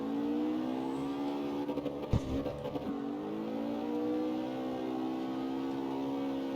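A car's engine runs at full throttle while drifting in CarX Street, C3 drift build. It holds a loud, steady, high-revving drone with a brief wobble in pitch partway through.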